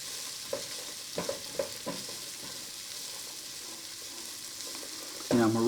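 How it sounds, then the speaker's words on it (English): Onions and thyme sauté in a pan with a steady, close sizzle, broken by a few sharp clicks of stirring and a brief louder burst at the very end. "I'm just going to saute this until the onions are starting to look good and translucent"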